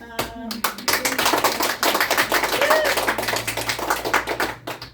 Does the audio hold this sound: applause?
yes